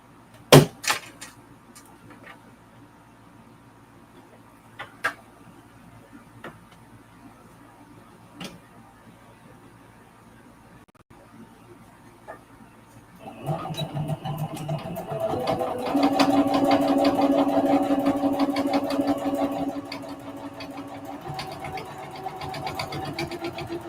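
A home sewing machine stitches a mug rug with red top thread and black bobbin thread, whirring steadily for several seconds after a long quiet stretch of faint handling clicks and taps.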